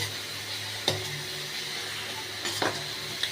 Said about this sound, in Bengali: পুরো তেল ঘিটা বেরিয়ে আসা অবধি আমি কষিয়ে যাব নেড়ে যাব